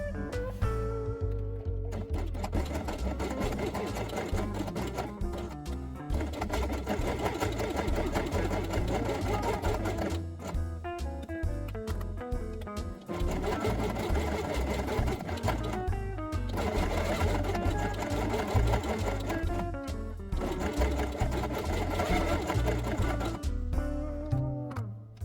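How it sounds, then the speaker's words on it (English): A sewing machine runs steadily, stitching fur pieces together with beige thread, a continuous rapid mechanical whir and needle rattle with a few brief pauses and restarts. "Sew both pieces along the inside edge using beige thread."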